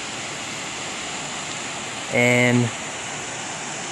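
Steady broadband rush of Rock Creek flowing along the Pacific Crest Trail in Northern California fills the clip, with a brief spoken word partway through.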